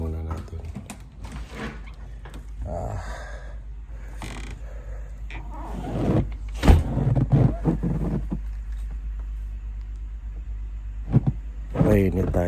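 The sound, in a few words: car warming up in extreme cold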